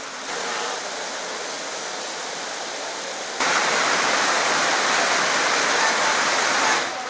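Heavy rain and rushing water at Sabarimala make a loud, steady broadband roar that rises sharply partway through and holds, with no voices.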